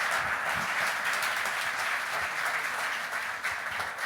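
A church congregation applauds loudly and steadily, a dense wash of clapping from many hands that fills the room without pause.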